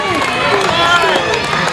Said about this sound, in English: This crowd now trying to get behind the Power Child